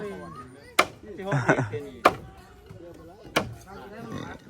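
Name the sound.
bamboo stakes being pounded into the riverbed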